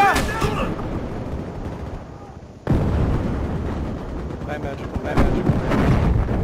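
A grenade blast and booming gunfire ring out in the video game Battlefield Hardline, loud and close, with a sharp explosion partway through followed by continuing heavy shots and rumbling.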